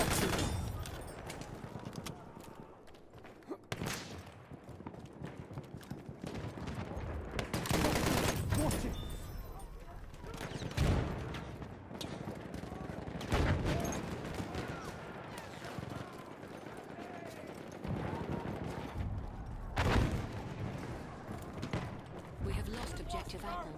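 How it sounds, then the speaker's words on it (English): Battlefield 1 match with gunfire bursts and enemy machine gun fire around a captured structure, loud repeated volleys and heavy impacts over a steady battle din, with voices calling out in places. "Enemy machine gun."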